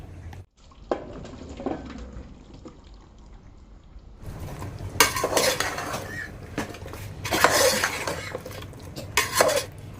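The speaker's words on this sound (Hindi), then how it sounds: "दूधिया चिकन मसाला सब अच्छे से मिक्स होना चाहिए।" A spoon scrapes and clanks against a cooking pot as bottle gourd is stirred into a chicken curry with lentils, quiet at first, then bursts of loud, close metallic stirring and wet sloshing.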